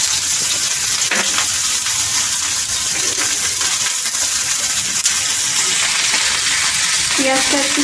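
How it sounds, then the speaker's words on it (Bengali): Coarsely chopped onions frying in hot oil make a loud, dense, continuous sizzle and crackle close by, with a brief clink of utensil near the end. "একটু মোটা সাইজ করে কাটা পেঁয়াজ আমি তেলের মধ্যে দিয়ে দেবো"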